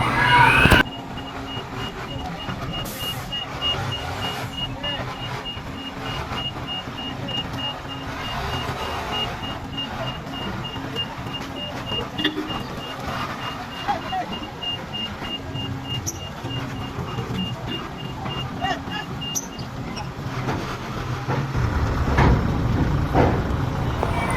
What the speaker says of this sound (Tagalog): Paunti-unti po nating palalabasin ngayon yung mga sasakyan